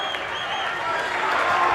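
A crowd of basketball fans at a girls' high school state game cheers and applauds, a dense roar of clapping that swells slightly over a short burst.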